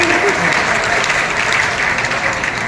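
An audience gives dense, steady applause at a public speech, a continuous wash of clapping that stays fairly loud for under three seconds.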